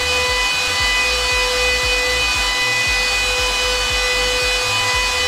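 A Bitmain Antminer S19 XP bitcoin miner runs with a steady, loud fan roar and constant high whine, overlaid with regular low rhythmic thumps, continuous throughout with no talking.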